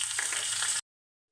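Mustard seeds, dried red chillies and curry leaves frying in hot oil in a small tempering ladle: a bright close sizzle, steady and moderately loud, cut off abruptly after under a second.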